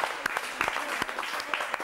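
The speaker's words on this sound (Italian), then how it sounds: "Fagli un applauso." Applause for a player on a local Italian football TV show, a lively burst of scattered clapping from a small crowd that carries on throughout.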